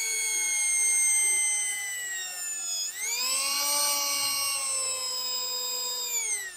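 Electric drill boring a hole through a very thin piece of wood for a shelf pin jig, a loud steady whine that dips briefly and picks up again, alone without talk.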